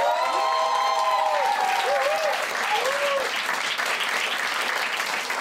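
A comedy-show audience breaks into loud, dense applause with some cheering and whoops, sustained for several seconds.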